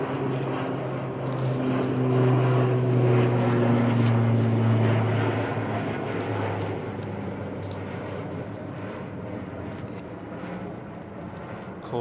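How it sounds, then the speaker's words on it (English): Turboprop airliner departing London Heathrow, with a droning propeller hum and steady tonal whine that swells loudly overhead and then slowly fades, with a voice talking over it. "now the only turboprop service operating out of London Heathrow"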